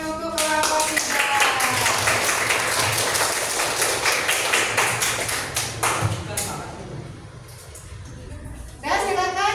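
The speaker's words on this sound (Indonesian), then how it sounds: "tepuk tangan untuk kelompok 3" A classroom of students claps for group 3, dense rapid hand clapping filling most of the stretch before tapering off, with a voice speaking near the end.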